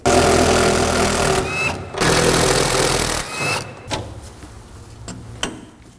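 Two 1/2-inch fasteners come loose from a bracket on a truck frame under a power tool, with two loud, sustained bursts of whirring mechanical noise and short pauses and clanks between them.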